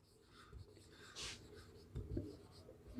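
Pen or chalk writing during a time-and-work maths lesson, faint scratchy strokes and taps close by, with no talk.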